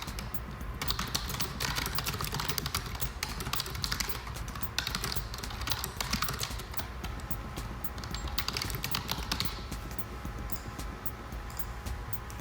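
Steady tapping on a computer keyboard while typing trade messages in Albion Online, fairly continuous and close against a constant background hum.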